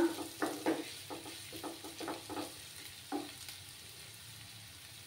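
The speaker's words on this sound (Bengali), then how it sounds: "এবার আমার পেঁয়াজগুলো ফ্রাই হয়ে গেছে।" Onions frying in a pan for a dhaba-style spicy potato masala gravy, with a steady soft sizzle broken by repeated stirring scrapes and clinks, close and moderately quiet, with no talking.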